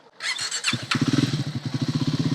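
A Triumph Speed 400, a 400cc single-cylinder motorcycle built by Bajaj in India, starts up nearby, then settles into a loud, evenly thumping idle beat.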